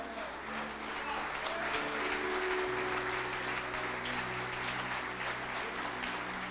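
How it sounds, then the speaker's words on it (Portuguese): A congregation at a men's church service applauds continuously and evenly, while a low sustained instrumental tone hums underneath. "Quem acredita, aplauda e glorifique Jesus."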